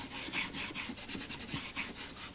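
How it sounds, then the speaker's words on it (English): Gelled wood stain being rubbed by hand onto an old wooden box, a continuous rhythmic rasping and swishing with repeated back-and-forth strokes, close and fairly loud with no talking. "I'm just going to rub it on the box and let it soak into the grain."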